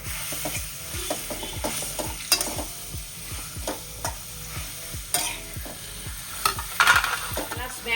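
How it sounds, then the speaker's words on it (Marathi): Dates roasting in ghee in a pan, stirred with a rhythmic scraping of a spatula over a steady light sizzle, close and clear with no talking. "भांड्यात दोन चमचे तूप टाकले तर तुपावर हा खजूरही भाजून घेते"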